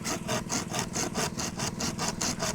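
An old, worn hand saw cuts through bamboo outdoors, a steady rhythmic back-and-forth rasp with about ten even strokes, close and moderately loud with no talking.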